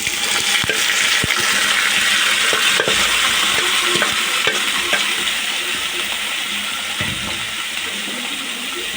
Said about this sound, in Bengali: এখানে আমি শাক বাগার দিব।